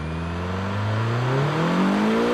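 A Mini Cooper engine pulls hard at full throttle, its note rising steadily in pitch as it accelerates, loud and close from inside the car with no talk.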